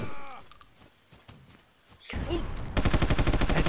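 Rapid gunfire from rifles in the Battlefield Vietnam game on the Ho Chi Minh Trail map crackles in a fast burst near the end, after quieter scattered shots.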